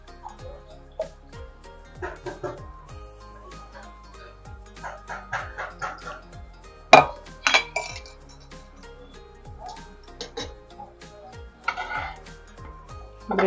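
Metal pot and utensils clinking while milk is mixed into tea, with scattered sharp taps and scrapes of varying loudness, and a dog barking at times in the background.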